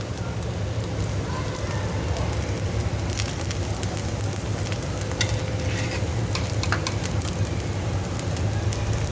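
Masala dosa sizzles in oil on a pan over medium flame, a dense, continuous crackle with scattered sharper pops throughout.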